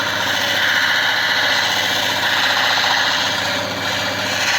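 A lapidary wheel grinding and polishing black opal gives a steady, loud whirring hum with continuous abrasive hiss, running without pause and with no speech.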